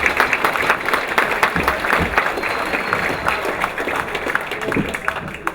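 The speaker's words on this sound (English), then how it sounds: "let's give Coach Gaffner a round of applause" Guests at a dinner roast for a coach break into dense, loud applause with individual claps standing out from the crowd noise, sustained throughout.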